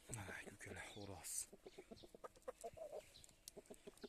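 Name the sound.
rooster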